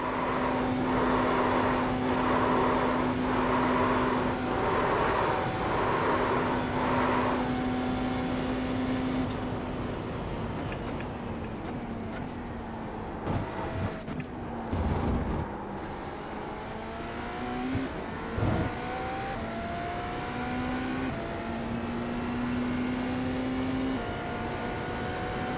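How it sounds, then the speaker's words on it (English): Cadillac race car engine in a racing game, droning and revving steadily, then shifting through gears with rising and falling pitch, with a metallic rattle and a few sharp clunks, loud and close. "This car sounds okay, apart from like the weird metallic rattling that's going on."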